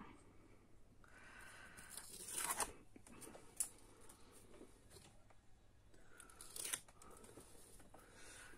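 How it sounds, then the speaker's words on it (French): Small scissors snipping paper for a handmade grunge-style album cover, a few quiet crisp cuts in short bursts with pauses between, close and faint. "il faut absolument les petits ciseaux, il se coupe pas à la main"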